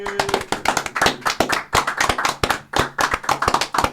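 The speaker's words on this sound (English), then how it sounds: "Can I have a round of applause?" A small group on a UK rap podcast claps for a few seconds, close and loud, with sharp individual hand claps in a quick uneven rhythm rather than a crowd roar.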